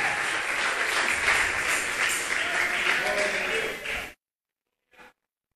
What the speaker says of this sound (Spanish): Ahora dele el aplauso fuerte a Dios